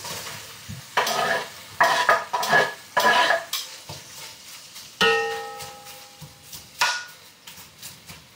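Onions and garlic are poured into a stew pot for a quick lamb sauté and stirred. Scraping metal clatters in bursts over a soft sizzle, then rings briefly.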